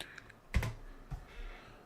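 Keystrokes on a computer keyboard: a few sparse, faint taps and a louder cluster of clicks midway, quiet and close, with no talking.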